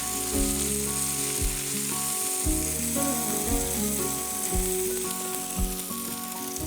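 Food sizzling in a hot pan while a spatula scrapes and stirs in repeated strokes, close up and fairly loud, no voices.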